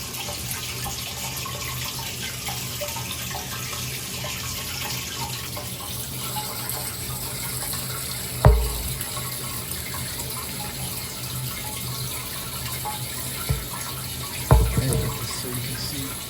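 Hot water runs steadily into a basement sewer pump pit during a DIY replacement, a constant broad hiss throughout, with two brief knocks near the middle and end.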